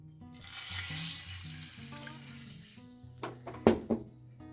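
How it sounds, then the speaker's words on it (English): Apple cider vinegar is poured into a hot pot for a pork roast, hissing into a steady sizzle, with a few sharp metallic scrapes and clinks near the end and soft background music throughout. "I am going to add half a cup of apple cider vinegar."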